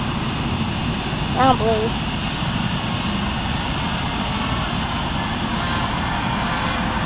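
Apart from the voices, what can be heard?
Yellow Bee RC airplane engine flying at part throttle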